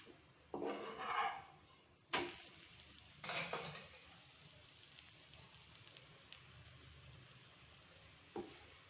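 Oil is spread over a chapati on a hot pan: a few soft metallic scrapes and taps of a spoon against the pan over a faint steady sizzle, quiet and close with no talking.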